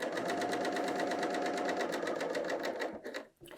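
Bernina L 890 sewing machine stitching a woven top, its motor running in a fast, steady, close stitching whir that stops abruptly near the end, with no talk.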